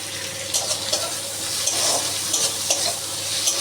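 Chopped tomato tipped into onions frying in a pan for an eggplant curry gives a loud, steady sizzle, with stirring bumps and brief bursts of spatter close to the pan.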